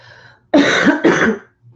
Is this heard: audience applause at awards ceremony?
no